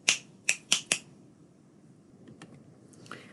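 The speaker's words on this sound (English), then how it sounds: "It is snapping." Four crisp finger snaps ring out close and dry in quick, slightly uneven succession, then faint scattered clicks and a soft rustle follow in a quiet room.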